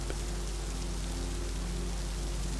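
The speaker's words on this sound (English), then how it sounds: "You are left with the clearing white noise of the rain to soothe you" Steady rain falls in a continuous soft hiss, like white noise, with a low rumble underneath and no voices.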